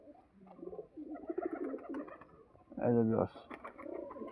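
Teddy pigeon cooing close by, a short throaty coo standing out near the end while someone talks over most of the sound.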